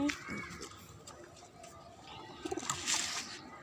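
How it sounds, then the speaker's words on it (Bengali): Soft pigeon cooing close by on a rooftop garden, a few low murmuring calls against light outdoor background noise. "এদিকে কবুতর আছে কবুতর সব বসে আছে"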